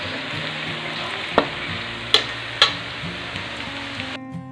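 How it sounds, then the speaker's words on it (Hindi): A ladle stirring onions frying in a pan: a steady crackling sizzle with a few sharp scrapes and clinks of the ladle, close and continuous, then cutting off abruptly at the end. "बस प्याज से कलछी हिलाने का काम कर रही हूँ"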